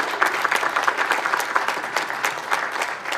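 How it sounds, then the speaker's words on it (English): Audience applause at an arts festival opening ceremony, a steady wash of many hands clapping for the volunteers, sustained and fairly loud throughout with no voices over it. "Let's give them a big round of applause."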